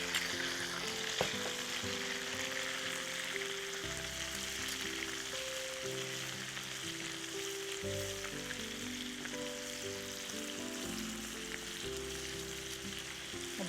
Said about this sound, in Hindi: देखिए टमाटर भी फ्राई हो रहे हैं